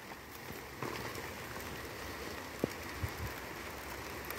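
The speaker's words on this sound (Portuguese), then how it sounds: "E a chuva tá caindo, hein." Rain falling at a scrapyard, a steady broadband hiss of drops with a few sharper taps and knocks on nearby surfaces, continuous and moderately loud with no voices.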